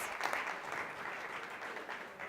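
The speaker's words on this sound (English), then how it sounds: "Give him a round of applause." Audience applauding a volunteer coming up on stage at a talk, a steady wash of many hands clapping, faint and distant, with no voices over it.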